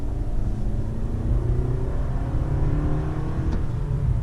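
A 2005 Pontiac Bonneville GXP engine hums in a deep, steady rumble with a light throttle blip, close and continuous, with its pitch rising only gently and no voices over it.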